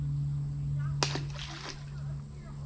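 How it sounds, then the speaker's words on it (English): A small fish, likely a bass, is dropped back into a creek, giving one brief splash and a short slosh of water against a steady outdoor background hum. "So we're gonna let this guy go back in the water."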